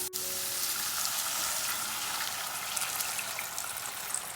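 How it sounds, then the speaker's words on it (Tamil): Water is poured into a pan of half-cooked sautéing vegetables for a semiya breakfast, setting off a sharp burst at the start and then a steady, close, crackling sizzle and bubbling that carries on alone. "இப்போ நம்ம தண்ணி சேர்த்துக்கலாம்"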